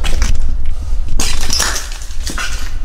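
Broken glass crunches and clinks underfoot on the littered floor of an abandoned military school, a close, gritty shattering texture of scattered steps with no talk.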